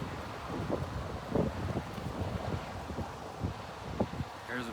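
Wind gusting steadily across a microphone outdoors, a continuous close rumble and buffet with no pauses and slight swells in strength.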